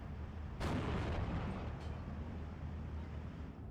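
Heavy 122 mm artillery fire in the Steel Division 2 war game, with a loud booming blast at the start, a second fainter thump soon after, and a rumbling low roar that carries on through the rest.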